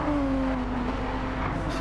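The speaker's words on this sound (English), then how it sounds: "Scotty 22 revving out a bit more then than Tag" Race car engine in Gran Turismo 7 on the Bathurst circuit, a steady loud high whine held throughout with a slight pitch drop, continuous and close.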